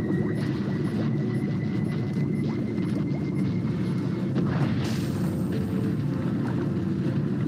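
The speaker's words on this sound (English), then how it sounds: "that explosion should do the trick." Kinesium charges explode in the video game I Expect You to Die 3, a deep booming rumble with a sharper blast near the end, set against a loud, continuous low roar.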